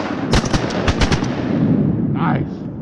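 Shotgun blasts ring out during a Georgia duck hunt for mergansers and wood ducks, with several sharp, loud outdoor reports close together followed by rolling echo and rumble, and a voice briefly heard near the end.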